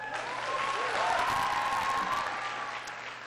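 Audience at a high school speech applauding, steady clapping from a crowd swelling and then easing over about three seconds, with a voice faintly audible underneath.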